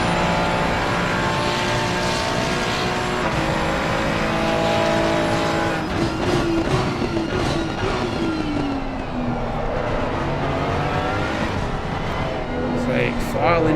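A BMW race car engine roars in a PC racing game, a loud, continuous high-revving drone with rising and falling pitch as it shifts gears, other cars blending in and a commentator talking over it.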